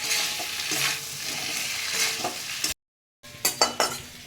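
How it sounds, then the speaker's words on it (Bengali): Vegetables fry in a pan with mustard and poppy seed paste while a spoon stirs them. A soft, close sizzle runs under repeated scraping strokes, then cuts out briefly before sharper clinks of the utensil against the pan. "এবারে আমি এটাকে কষিয়ে নেব সর্ষে পোস্ত বাটাটা দিয়ে"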